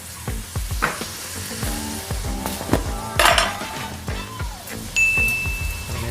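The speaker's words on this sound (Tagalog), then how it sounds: "Lagyan natin ang ating chicken." Chicken pieces sautéing in a pot for chicken sopas give a loud, steady sizzle, broken by repeated sharp clinks of a utensil against the pot and stirring scrapes, with no talk.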